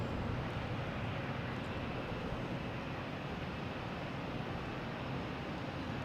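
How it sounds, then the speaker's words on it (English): A brand-new JetBlue Airbus A220 jet airliner roars with a steady, broad engine rumble at Boston Logan Airport, holding loud and constant throughout with no talk. "now we have a JetBlue A220. Brand new, heading to Buffalo."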